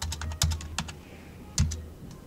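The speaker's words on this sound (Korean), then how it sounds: "번호 누르고 엔터를 치세요." Fingers typing a phone number on a PC keyboard, a quick run of light clicking keystrokes close up, with two heavier thuds that could be the enter key, over a low background hum.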